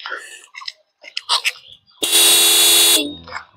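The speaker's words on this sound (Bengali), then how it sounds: "ইন্ডিকেটার ডান দিক বাদিক বোঝার সুবিধার্থে হর্নটা একটু শুনিয়ে দিই" A 2025 TVS Apache RTR 200 4V motorcycle horn sounds once in a loud, steady, buzzy blast lasting about a second, with someone talking before and after it.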